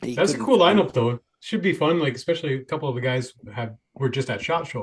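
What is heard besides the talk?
No everyday noises stand out.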